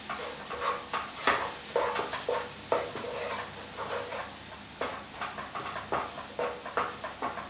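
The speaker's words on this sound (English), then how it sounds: "Our spices are still blooming and cooking in there with our onion paste" Spices and oily onion paste for an aubergine curry sizzle in a pan while a spoon stirs and scrapes in a quick repeated rhythm, the frying hiss steady underneath and no talk.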